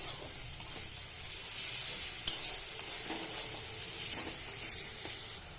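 Ground cumin and dried chili powder fry with browned onions in a pan, a bright continuous sizzle with a few sharp scraping taps of a spoon as the mix is stirred.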